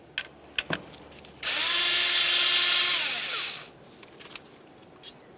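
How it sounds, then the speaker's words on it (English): Power drill running a 10mm ignition coil mounting bolt out of the valve cover area on a 2009-2010 Pontiac Vibe 2.4L: one steady, loud whirring burst of about two seconds, with light clicks before and after. "You're going to do that by removing the 10mm mounting bolt."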